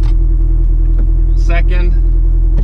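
A car engine rumbles steadily and loudly as the clutch is let out in first gear, with someone briefly speaking over the low drone.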